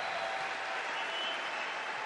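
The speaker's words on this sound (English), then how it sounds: "another wonderful round of applause for all the wonderful memories" A crowd applauds at the Detroit Red Wings 1997 Stanley Cup 25th anniversary celebration, a dense, steady wash of clapping throughout the short stretch.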